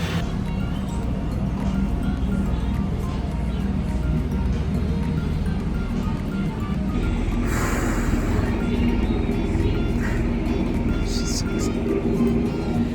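A Maverick helicopter waits before a Grand Canyon flight, giving off a loud, steady engine and rotor drone with a constant low rumble, and brief higher whines come through over it.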